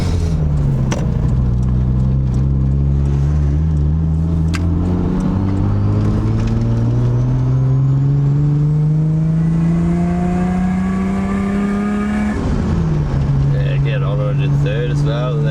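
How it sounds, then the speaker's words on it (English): A forged Nissan RB25DET turbocharged straight-six winds up steadily under load on a dyno, its tone climbing loud and close for over ten seconds, then dropping sharply and settling; voices talk faintly underneath. "Revs a bit nicer now, does it?"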